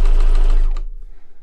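A sewing machine stitches a Christmas stocking seam at presser-foot width in a short, loud, close burst of rapid whirring that cuts off partway through.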